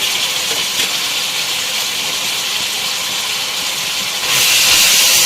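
Fresh fenugreek leaves dropped into a pan of cooking potatoes give a loud, continuous steamy hiss and sizzle that grows noticeably stronger near the end.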